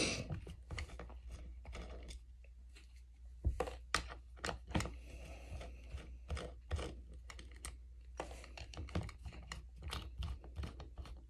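Tools working on a Kohler Command engine carburetor during disassembly: sharp metallic clicks, ratcheting and small part clatter in irregular bursts, close up over a low steady hum, with no speech.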